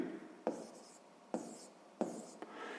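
Pen writing out a maths solution on paper, heard as a continuous close scratch with three distinct taps as new strokes begin.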